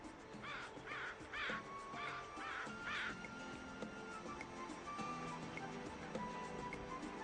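Rooks cawing in a loose flock, a cluster of harsh, repeated caws up front over a continuous bed of other bird calls and outdoor ambience, with no talking.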